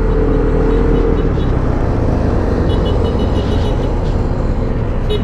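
A Euro Falcon 180i motorcycle engine roars steadily and loudly for several seconds under broad wind and road noise, the throttle held open while riding.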